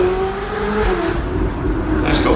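A remapped car engine revs hard with popping exhaust crackles, loud and close, in a steady roar that swells near the end.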